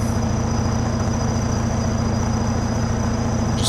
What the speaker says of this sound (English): the K700A, beautiful tractor, has a really, really good sound to it